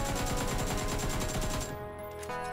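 An AKM rifle fitted with a scope sprays full-auto in PUBG, a rapid, even stream of loud close shots that stops abruptly after about a second and a half, with a short tail of echo.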